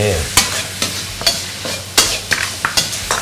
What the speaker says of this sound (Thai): นี่เราทำแบบแห้งนะคั่วๆเลย